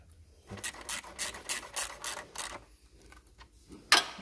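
A ratchet wrench works on a Range Rover Sport engine during a rebuild, giving a series of close, rhythmic rasping clicks in short strokes. It pauses briefly, then a final louder burst follows.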